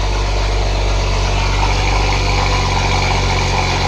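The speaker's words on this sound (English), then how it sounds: "I don't even know if you guys can hear me at all over the sound of the exhaust." A BMW M135i fitted with a JB4 tune idles at cold start, a loud, deep and steady exhaust drone heard up close that holds constant without any voices.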